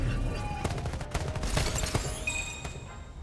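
Dense automatic gunfire from Farlight 84, a rapid stream of loud sharp shots with bursts packed close together over a constant game background, loud and near throughout.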